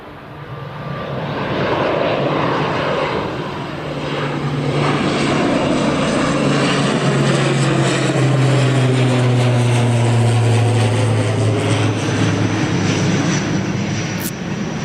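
An Aer Lingus airliner takes off at Newcastle International Airport, a loud roaring engine rumble that swells and holds with a sweeping pitch shift as it passes, heard alone and close for the full stretch.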